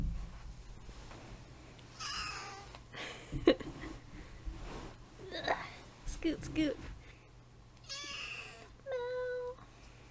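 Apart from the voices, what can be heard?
cat meowing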